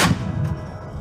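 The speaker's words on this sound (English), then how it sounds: "Here is the sound of the legendary Bogdana." A single heavy boom from a Bogdana self-propelled artillery gun firing, a sharp loud blast up close followed by a rumbling low decay that trails off without any voices.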